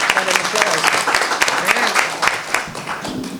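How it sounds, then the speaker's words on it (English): Sustained crowd applause at a League of Women Voters candidates' night, a dense steady clapping from an audience filling the room with some voices mixed in, lasting throughout. "Yeah, got an applause."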